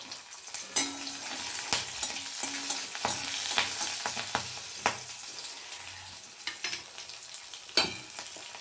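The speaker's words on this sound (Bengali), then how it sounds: "এই যে 1 টুকরো দারচিনি আর 4-5টে লবঙ্গ নিয়ে নিয়েছি। এটাই আমি এর মধ্যে সম্বরা দিয়ে নেব।" One piece of cinnamon and four or five cloves tempering in hot oil, a busy crackling sizzle with sharp spattering pops and clicks scattered across the whole stretch.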